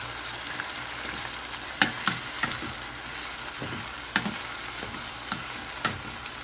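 Mushrooms and boiled meat are stirred in a kimchi stew pot, with a steady sizzle and a spoon scraping and clinking against the pot now and then.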